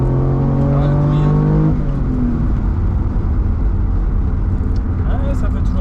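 An Alfa Romeo Spider 916 phase 2 with a 3.0 24v V6 revs loudly and close. A rising engine tone holds, then drops to a rough, steady idle-like rumble.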